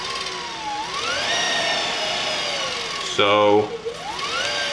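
Electric go-kart motor spinning freely with no load under throttle, a high-pitched whine that climbs and falls with each press, with people talking nearby and a brief louder burst near the end.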